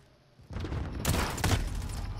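A frag grenade detonates in Call of Duty: a sudden loud burst followed by a heavier rumbling blast, thick and sustained for a couple of seconds over a quiet start.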